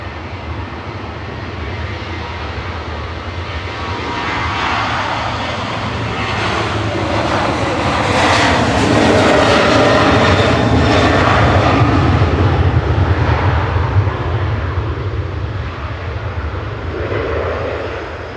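A Ryanair jet departs Manchester Airport for Tenerife South, a loud engine roar building and peaking mid-way as it passes close, then slowly fading into the distance, with no talking.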